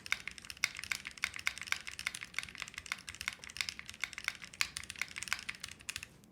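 Rapid, steady typing on a mechanical keyboard with a tactile spacebar, dense sharp clicky keystrokes close up, with no voices.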